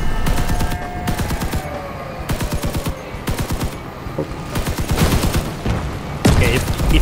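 Defender heavy guns firing in Crossout, a rapid series of loud, punchy shots in bursts with brief pauses, followed by a heavier impact near the end, with some game effects underneath.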